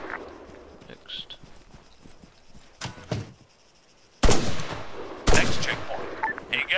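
Rifle shots ring out during an Arma 3 firing drill, a few sharp loud cracks spaced irregularly, the later ones heavier, mixed with footsteps and someone talking.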